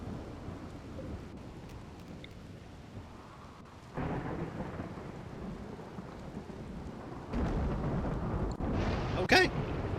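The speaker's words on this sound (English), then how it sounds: "Rainy Thunderstorm still going." A steady rain hiss from a thunderstorm in the video game Rimworld, swelling into heavier downpour with low rumbling thunder and a sharp crackle near the end.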